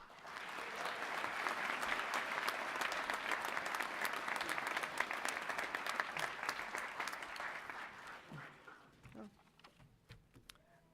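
Sustained audience applause at a fall 2017 commencement ceremony: dense, steady clapping from a large crowd that fades out over the last few seconds as a few voices emerge.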